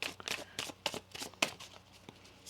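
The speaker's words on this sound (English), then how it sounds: "One more shuffle here." Tarot cards being shuffled by hand, a quick series of about eight crisp riffling bursts close up, with short pauses between them and no talk.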